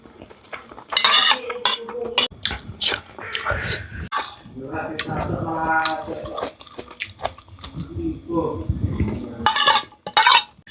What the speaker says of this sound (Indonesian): dia tuh di dalamnya seng sih, cuman dia dilapisin kayak melamin gitu. Nih, coba dengerin ya.